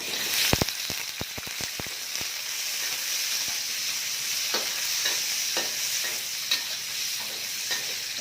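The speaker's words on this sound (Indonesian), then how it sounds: "Di sini aku akan tumis dulu untuk sambal terasinya atau sambal belacannya ya" Chili frying for sambal terasi (belacan) in a pan, a continuous soft sizzle punctuated by a quick run of sharp spatula clicks and taps early on, then scattered scrapes as the stirring continues.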